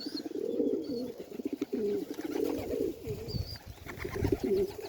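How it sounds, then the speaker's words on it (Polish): Soft, low pigeon coos roll on repeatedly at close range, including a young pigeon, with a few faint chirps and quiet rustling between them. "Patrzcie, młody gołąb, zobaczcie."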